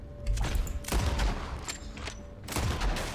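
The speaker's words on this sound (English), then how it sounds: "This is quite a shootout, I'm not gonna lie." A Red Dead Redemption 2 shootout: close, loud gunshots crack in a rough cluster, with several sharp reports echoing over a constant din of battle across about three seconds.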